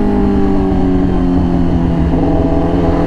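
Yamaha R6 sport motorcycle with a full exhaust, Akrapovič headers into an SC-Project titanium slip-on, giving a loud, steady, deep engine drone close by for the whole stretch, with no talk over it.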